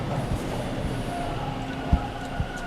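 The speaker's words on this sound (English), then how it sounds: "I hear the train." A train rumbles nearby at a station or platform, a steady low mechanical drone with a couple of brief clanks and thuds from the carriages.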